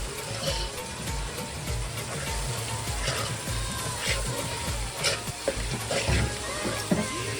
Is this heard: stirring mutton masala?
yes